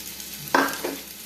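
A sudden burst of sizzling as chopped shallots drop into hot oil, followed by a second brief crackle, close and fairly quiet.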